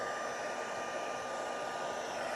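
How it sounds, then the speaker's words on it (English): Hair dryer blowing steadily to dry wet pigment sprinkle on a craft background, a continuous close, even whoosh with no pauses. "I'll just blow dry this a little bit so it's not so wet over there"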